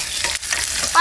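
A tadka for Maggi noodles fries in a wok, giving a loud, steady sizzle with bursts of crackling oil and a brief dip partway through, heard alone with no talk.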